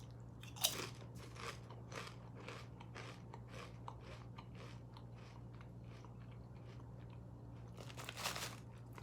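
Tayto beef and onion potato chips from Northern Ireland being crunched and chewed close up, with a steady run of crisp bites and a couple of louder crunches near the start and end.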